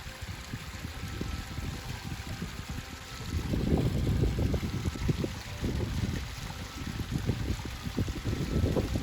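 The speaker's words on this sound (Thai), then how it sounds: "อันนี้ก็เป็นการสูบน้ำจะให้มันลงมาที่คลองนี้นะครับ" Pumped water pours steadily into a small irrigation canal in a rice field, a continuous close rushing and splashing flow that grows louder midway, with no voices.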